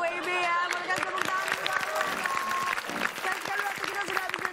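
Applause from an audience fills the whole stretch, dense clapping with crowd noise and some voices mixed in, fairly loud and steady.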